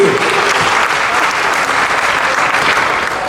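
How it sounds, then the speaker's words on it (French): Applause from an audience at a Disneyland Paris Insidears presentation event, a dense, steady clapping that carries on at an even level for the whole stretch without breaks. "On peut applaudir Marc pour sa présentation"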